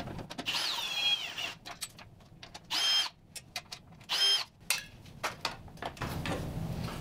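Short bursts of an electric driver whining as screws come off the pipe guard on a 2020 Husqvarna 701 Enduro, T25 and T27 bits, several separate runs with pauses and clicks between them, close up.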